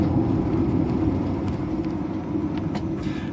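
A 1996 Acura Integra engine drones steadily from inside the car while accelerating with a hesitation and misfire, a low continuous rumble with road noise and no clear rise in pitch.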